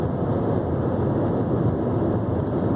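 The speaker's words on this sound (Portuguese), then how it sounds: "você sente claramente aqui um ruído de vento nas laterais" Steady wind noise rushes along the sides of a Jeep Renegade cruising on a highway, a constant broadband roar with a low rumble and no pauses. No one speaks.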